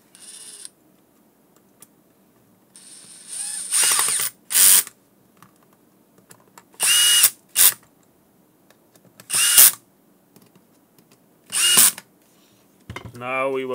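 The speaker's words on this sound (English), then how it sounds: "Let's close the screws." A small power screwdriver tightens screws while a Garmin StreetPilot C320/C330 GPS is closed up, several short whirring bursts of a few seconds each separated by quiet pauses and small handling clicks.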